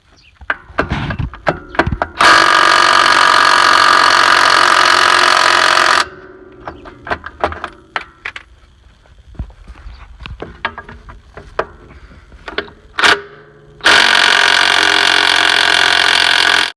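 A Farmall Super C tractor engine is cranked by the starter in two long bursts of several seconds each without catching, with clanks and knocks from work on the machine in between.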